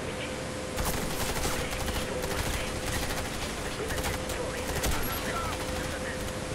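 Rapid suppressed gunfire in the first-person shooter Warface, fired from a silenced main weapon in repeated short bursts over a faint constant game tone, with no talk.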